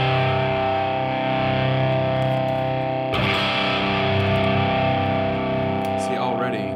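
An electric guitar plays through a Peavey 6505 Piranha amp with distortion, producing sustained, heavily saturated ringing chords that change sharply midway and continue loudly to the end.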